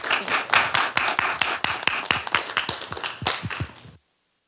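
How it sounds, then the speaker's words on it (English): A small audience claps for a guest speaker at a talk on trauma and well-being, the claps sharp and distinct, some louder and closer than others, running for several seconds before stopping abruptly into silence. "Please join me in giving a round warm of applause for Christine White."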